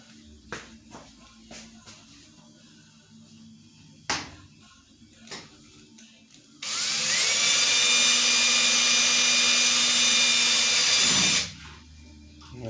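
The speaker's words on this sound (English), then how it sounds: "I put the drill bit just barely in there so that you can clear the Cleco." A power drill spins a bit just barely into a Cleco hole during nut plate installation, a loud steady whine lasting several seconds after a few quiet clicks and taps, with no talk.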